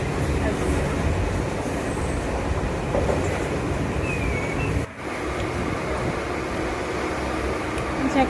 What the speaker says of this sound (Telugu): ఒక ప్లేస్ దగ్గర ట్రైన్ అనేది చూడు